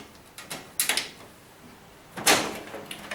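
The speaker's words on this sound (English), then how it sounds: "The panel slides off." Sliding scrapes and clunks of a Bosch washing machine's front panel being pulled off by hand, a few short bursts separated by quiet, close and moderately loud.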